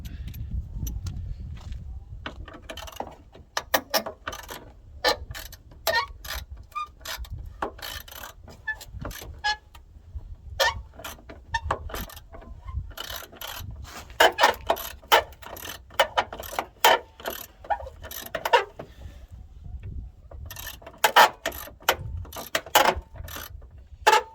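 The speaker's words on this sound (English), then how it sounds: "we're gonna take what's left of this bracket out. And they're 10mm bolts." Ratchet wrench clicks rapidly and repeatedly, with clanks between runs, while removing 10mm bolts from a bracket on a 1990 Dodge Grand Caravan LE, close up and continuous for over twenty seconds.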